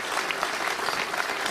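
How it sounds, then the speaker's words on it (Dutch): Audience applause at a Dutch municipal award ceremony, with a brief burst of dense, even clapping. "Een grandioos applaus."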